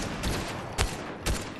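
Sporadic gunshots in a video game firefight, a few separate cracks spaced about half a second apart over a steady rumbling background, moderately loud.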